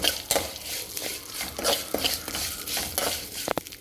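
Carrot pieces for carrot kheer fry in a pan over low gas, with a stirring spoon scraping and clinking against the metal in irregular strokes over a soft sizzle, close and alone.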